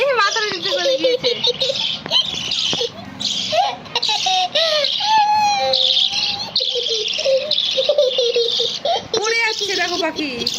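A small pet bird chirps in a busy run of high tweets and short calls, close to the listener, mixed with a voice and other people talking nearby.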